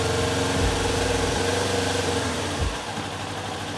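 A motorcycle engine is revved to roughly 3,000 RPM, a steady loud rumble that drops back toward idle near the end, close by with no talk.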